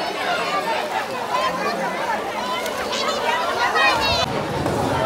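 A large crowd chatters at the Vajra Kund waterfall, a dense, continuous babble of many overlapping voices close around, steady and lively throughout.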